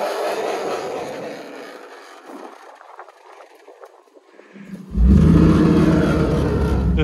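A Cadillac with a Dodge trunk does a one-wheel burnout. The engine is subdued at first, then abruptly roars up to a loud, sustained rev with a single wheel spinning.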